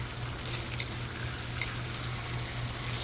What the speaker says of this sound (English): Slowly let them fry up.